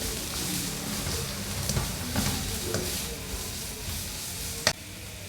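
Vegetables stir-fried on high heat in a pan for chicken chilli noodles, giving a continuous hiss and sizzle with occasional soft scrapes and one sharp clack near the end.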